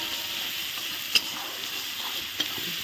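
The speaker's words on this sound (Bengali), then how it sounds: "তারপর দিয়ে দিচ্ছি গোটা রসুন, এই পেঁয়াজই ভেজে নেব" Whole garlic cloves and onions fry in a pan with a close, continuous hissing sizzle, broken by a couple of light clinks from stirring, and no one speaks.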